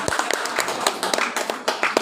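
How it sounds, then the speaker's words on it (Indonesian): A small group claps in uneven, scattered bursts, sharp hand claps close by with no voices over them. "Ya. Tepuk tangan dulu buat Ibu Bendung."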